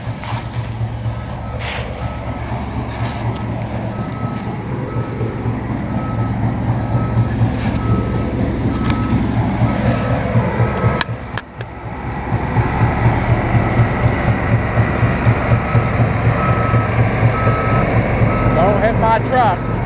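A truck reverses with steady backup beeps sounding throughout, over loud rumbling engine and traffic noise near a rail line, with a brief dip partway through.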